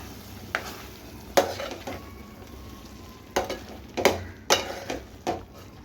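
Mutton masala stirred in a pan, sharp spoon-on-metal scrapes and knocks landing in uneven bursts over a low steady sizzle, close and clear, no talk.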